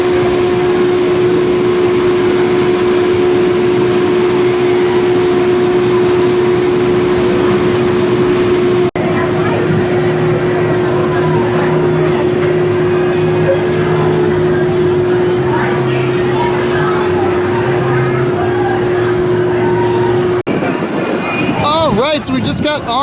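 Onboard a B&M hyper roller coaster, the Intimidator at Carowinds, with a steady loud roar of wheels and wind, a constant droning tone, and rushing wind noise throughout, shifting in texture partway as the ride runs on.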